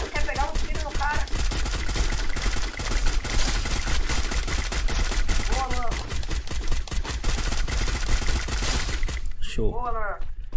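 Loud, dense gunfire in the battle-royale game Free Fire, with rapid automatic bursts crackling almost nonstop. Excited voices talk over it, including short shouted exclamations.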